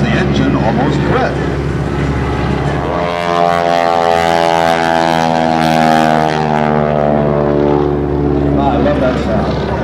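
A wingwalking airshow biplane's propeller engine drones loudly through a loop, its pitch sliding and wavering as the engine nearly quits, with an announcer talking over it.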